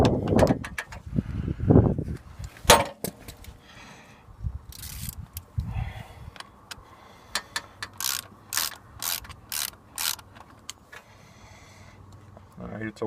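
A ratchet clicks in bursts of rapid pawl ticks while tightening a belt adjuster on a Jeep Cherokee 4.0L engine, close and loud. Someone talks during the first few seconds, and the clicking turns into a rhythmic series of strokes later on.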